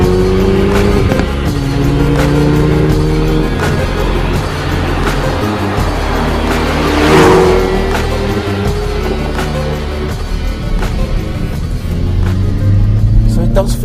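A Hyundai i30 N Performance hot hatch engine hums and rumbles steadily while driving, rising briefly in revs, with a person talking over the road noise throughout.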